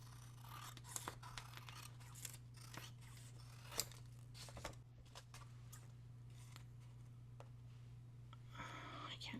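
Scissors cutting paper strips for junk journal pockets, a series of quiet, crisp snips and rustles at close range with soft paper handling between cuts.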